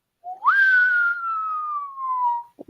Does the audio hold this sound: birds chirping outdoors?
no